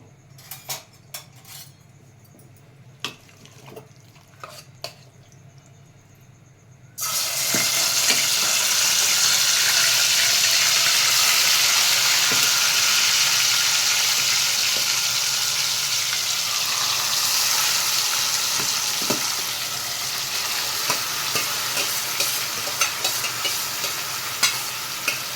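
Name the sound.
marinated masala frying in hot oil, stirred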